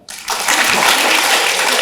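An audience claps together at a televised interview, a sudden dense burst of applause that starts sharply and holds steady and loud for a couple of seconds.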